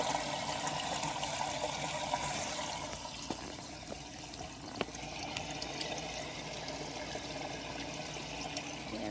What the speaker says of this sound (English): It's just flowing very low water.